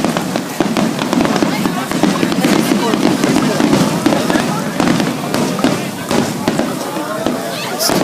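Fireworks at a Japanese summer festival crackle and pop without pause, a dense, loud barrage of bursts and crackles, with crowd noise mixed in.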